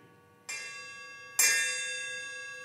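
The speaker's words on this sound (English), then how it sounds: "we even have a bell cymbal here." A bell cymbal on a robot drum kit is struck twice, each a bright ringing hit with a long sustained decay, the second louder, with nothing else sounding.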